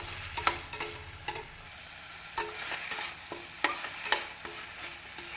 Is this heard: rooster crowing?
no